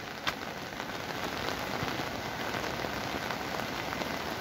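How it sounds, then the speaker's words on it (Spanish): Heavy rain from Hurricane John pours down in a dense, steady patter on nearby surfaces, continuous and loud throughout. "No para de llover, no deja de llover"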